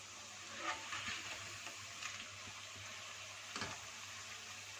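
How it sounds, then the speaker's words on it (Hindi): Rolled potato chips frying in oil on low heat, a soft, continuous sizzle with a few gentle bubbling swells and one brief stir, faint and quiet throughout with no talking. "हीट को लो कर देंगे और चिप्स को फ्राई करने के लिए डाल देते हैं"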